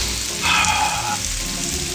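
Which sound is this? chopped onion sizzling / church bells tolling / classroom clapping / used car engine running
chopped onion sizzling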